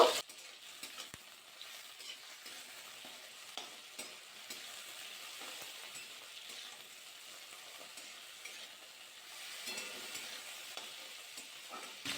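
Steady hissing sizzle of spices frying in a pan, with occasional scrapes and taps of a spoon stirring, close and fairly quiet.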